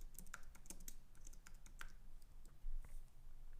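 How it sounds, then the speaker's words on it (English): Quiet typing on a computer keyboard gives a quick, uneven run of light key clicks close by, with no talking. "And if you type James West,"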